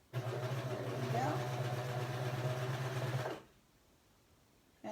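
Sewing machine running steadily as it stitches a seam on a tee shirt, a loud continuous motor hum lasting about three seconds before stopping abruptly into near silence, then restarting briefly at the very end.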